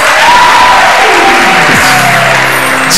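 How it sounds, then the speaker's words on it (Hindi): Studio audience applause and cheering on a televised Ramadan quiz show after a correct answer: a dense, steady roar of clapping and crowd noise held at full loudness throughout, with faint tonal sounds running underneath. "बहुत सी तालियां, जवाब दुरुस्त है।"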